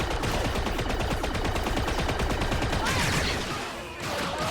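A blaster set to ion mode fires in Star Wars Outlaws, a loud continuous stream of rapid shots amid dense combat noise that dips briefly near the end.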